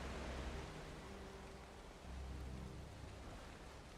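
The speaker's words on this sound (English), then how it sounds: "the rain is going right now too" Rain falls steadily as a soft, continuous hiss with a low rumbling undertone, fairly faint and even throughout, with no voices.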